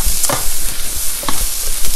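Vegetables for a cabbage roll skillet slide off a flexible cutting board into a hot skillet, setting off a loud, continuous sizzle with a few scraping clicks on top.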